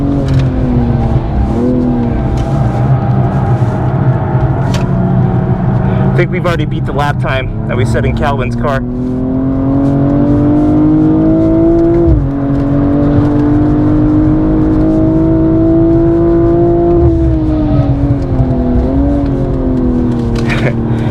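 A BMW M240i laps a race track, its six-cylinder engine droning loudly and continuously from the cabin, pitch rising and falling through gear changes and corners, with a brief crackle of clicks and people talking over it.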